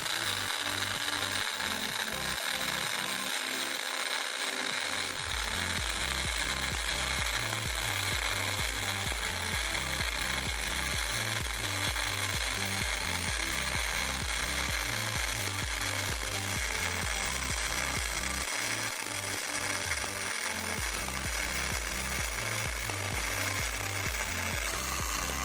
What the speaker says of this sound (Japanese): 続いて正しいやり方の溶接始めます。